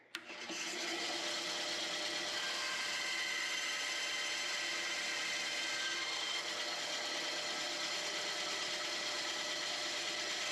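A saw cuts through bourbon barrel oak for a wooden ring, a sustained hissing, grinding rasp that starts suddenly and holds steady and fairly faint throughout.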